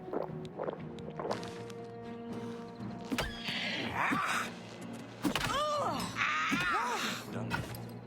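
A horse whinnies twice in loud, shrill bursts over a steady low soundscape in the game The Elder Scrolls IV: Oblivion Remastered, with hooves clopping faintly beneath.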